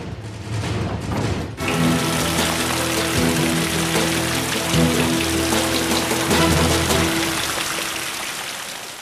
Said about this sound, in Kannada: ದೂರದ ಬೆಳಗಾವಿಯಲ್ಲೆಲ್ಲೋ ಒಂದು ಕಡೆ ಮಳೆಯಾದರೂ ಇಲ್ಲೂ ಮಳೆ ಆಗ್ತಾ ಇದೆ.